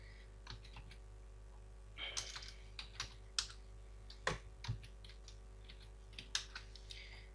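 Someone types on a computer keyboard, the soft clicks coming in short scattered runs over a steady low electrical hum.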